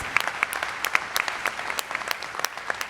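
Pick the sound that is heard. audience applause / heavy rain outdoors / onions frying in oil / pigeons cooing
audience applause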